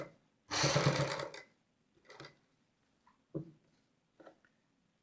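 A sewing machine runs in one burst while stitching lace onto a collar for a kameez or kurti, followed by a few faint ticks and short whirs in an otherwise quiet room.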